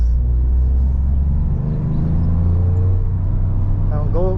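Toyota GR Yaris on a race track at TS Takata Circuit, running on new rims and tires, its engine droning loud and steady under acceleration, pitch rising toward the end, with a voice speaking over the engine.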